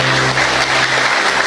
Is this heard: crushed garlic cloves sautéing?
no